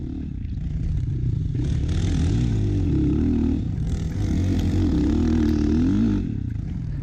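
An enduro motorcycle accelerates along a rutted single trail. The engine is close and loud, with a rising, wavering roar, and the chassis clatters over the rough ground throughout.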